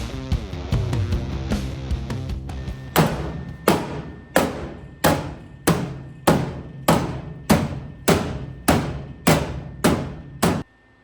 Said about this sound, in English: Body hammer.